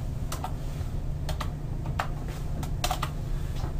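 Computer keyboard typing while entering a place name into mapping software, quick irregular clusters of close, crisp key taps over a low steady room hum.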